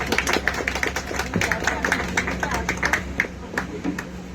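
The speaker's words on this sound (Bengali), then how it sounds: "টিম বাজরানী রিধির জন্য আমরা সবাই আরেকবার একটু হাততালি দিই।" An audience claps at a tenth-anniversary celebration and honouring ceremony, a dense run of overlapping hand claps that holds steady for the whole stretch, with a few sharper claps standing out near the front.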